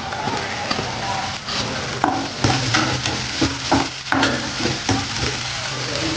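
Chopped carrots stir-fry in a hot pan for street-food-style veggie paneer fried rice, with a loud, close sizzle and repeated scraping and clattering stirs.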